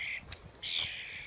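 A crow-like bird caws close by, first a harsh call, then a brief click, then a longer loud cry, with an outdoor setting around it.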